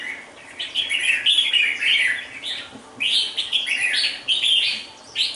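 A wild-caught red-whiskered bulbul, selected as a competition songbird, sings repeated bright, warbling phrases close up, with short pauses between bursts and no voices.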